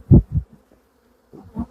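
Honey bees buzz around an open brood box during a spring hive inspection, passing close in a few short, low, droning bursts separated by near silence.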